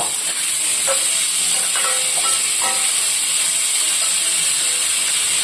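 Chopped onions and green chilies sizzle in a hot pan for chicken curry with kaju and badam, with a loud, steady frying hiss and a few light stirring clicks, no talk.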